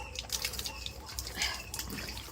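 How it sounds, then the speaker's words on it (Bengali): Water splashing and trickling close by as someone bathes, a busy continuous wash of splashes and drips with no break. "স্নান করবো তোমাদের সামনে।"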